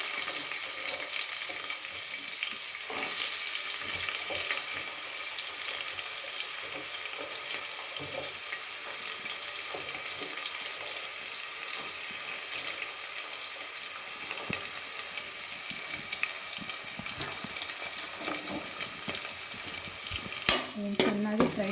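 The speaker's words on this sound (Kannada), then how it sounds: "ಕಲರ್ ಬರೋವರೆಗೂ ಚೆನ್ನಾಗಿ ಫ್ರೈ ಮಾಡ್ಕೊಳ್ಳೋಣ." Mustard seeds, cumin, dried red chilli and a medium onion frying in a pan for spinach saaru, giving a steady close sizzle with scraping stirring sounds throughout and no talking.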